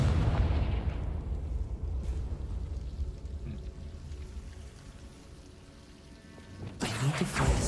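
A Confringo spell in Hogwarts Legacy ends in a sharp, loud explosive burst after a long stretch of low rumbling background that slowly fades.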